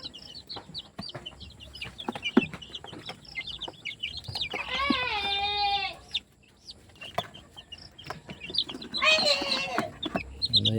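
Chicks of local banded chickens cheep in high, repeated peeps during vaccination, with two louder, longer fowl calls rising above them and some handling noise.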